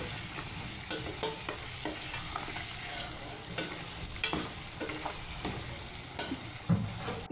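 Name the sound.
dal gravy paste cooking with spices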